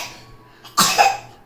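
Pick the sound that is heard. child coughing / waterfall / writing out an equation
child coughing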